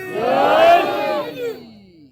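At an Urs gathering, a crowd answers a religious slogan with one loud, sustained shout in unison. The call swells over about a second and a half, then tapers off.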